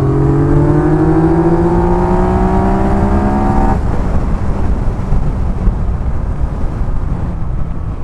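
A 2021 Yamaha MT-09 SP motorcycle engine pulls hard, its rising whine climbing for a few seconds before it drops off. Heavy wind rush then dominates, loud and close to the microphone, with no voices.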